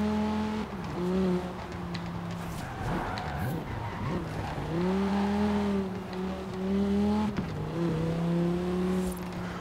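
Quadra Turbo-R car in the video game Forza Horizon 4, engine droning and shifting pitch as tires skid and squeal through corners, continuous and fairly loud.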